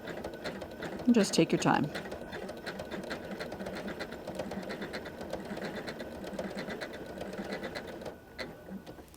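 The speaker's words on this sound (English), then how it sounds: "I'm kind of putting the center of the foot along the line, roughly anyway, because as you know, the zigzag's going back and forth." A Janome M17 sewing machine runs a steady zigzag stitch to couch yarn onto fabric, a continuous mechanical whir with a brief louder burst near the start, while someone speaks softly over it.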